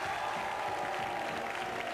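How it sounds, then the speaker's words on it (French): A French TV game show studio audience applauds a contestant, a fairly faint, steady stretch of clapping and crowd noise over a light tonal background. "On l'applaudit, on l'applaudit."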